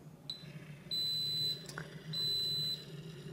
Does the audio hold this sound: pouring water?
no